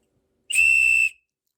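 A 3D-printed sports whistle with a tooth bar is blown once in a single loud, piercing half-second blast that stops abruptly, with silence before and after.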